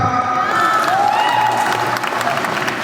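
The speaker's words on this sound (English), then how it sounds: "Let us give a round of applause to Sai Kumar." Applause and cheering from the audience for Sai Kumar at a Guinness World Records attempt by a djembe drum circle in Hyderabad, a loud, dense wash of clapping with shouts over the top that holds steady for about three seconds.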